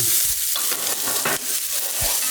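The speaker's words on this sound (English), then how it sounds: "In with your onions. Wilt your onions down." Onions sizzle and wilt in clarified butter in a pan, a bright crackling fry with a few scraping stirs, fairly loud and close over a couple of seconds.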